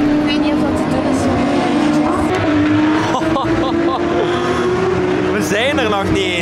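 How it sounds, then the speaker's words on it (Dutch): Race cars roar past on a track during practice for a 24-hour race, heard from close behind a fence: a loud, continuous engine drone with rising and falling passes and occasional tire squeal, and people talking over it. "dat lijkt de hele tijd dat er auto's hier doorkomen, maar dat is echt letterlijk hier, achter dit hek"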